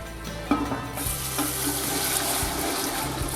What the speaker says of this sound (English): we're going to pour in little by little our broth